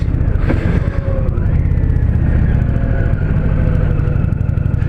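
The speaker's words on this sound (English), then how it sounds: "the transmission on this thing is just very smooth, just like I've come to expect with other Indian motorcycles" A 2020 Indian Challenger motorcycle engine runs steadily with a low, continuous rumble, close and fairly loud, without speech.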